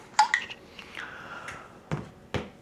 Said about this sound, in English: it makes this noise when you open it and close it.